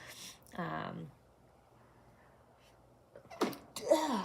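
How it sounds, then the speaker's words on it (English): A single loud sneeze bursts out near the microphone, followed by quiet room noise and then a few more sharp sounds near the end. "that sneeze came out of nowhere"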